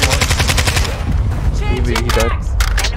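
Rapid automatic gunfire in the video game Modern Warfare II, loud and close with fast repeated bursts, joined by a brief voice and sharp single shots near the end.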